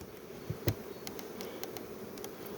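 Honey bees buzz around hive frames, a dense steady hum of many insects close by, with a few louder passes and light knocks.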